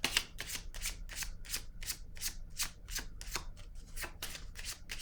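A deck of cards is shuffled for a card reading, with steady riffling strokes repeating about every third of a second, close and crisp, with no voices.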